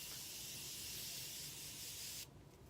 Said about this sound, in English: I'm going to top off this whole look with some setting spray to lock it all in.